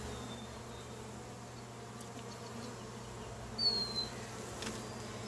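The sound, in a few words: honey bees buzzing during a hive inspection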